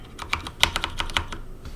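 Keys clack on a computer keyboard in a quick, uneven run of close, crisp taps, with a few louder strikes among lighter ones and no voices.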